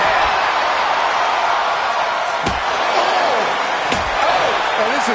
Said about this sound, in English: Oh, kendo stick right to the head.